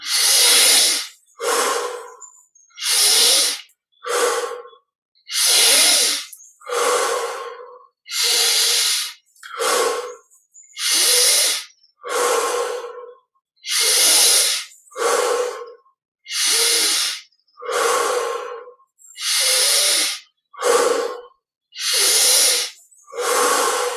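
Deep yogic breaths taken during an energy recharge exercise, each a loud, close hissing inhale and exhale repeated in a steady, even rhythm with short silences between.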